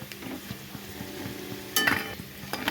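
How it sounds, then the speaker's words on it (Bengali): Potato fritters (bora) frying in hot oil, a steady crackling sizzle with a few soft stirring scrapes and a brighter splash of activity partway through, close and alone without talk. "পুরো লাল লাল করে ভেজে নিয়েছি"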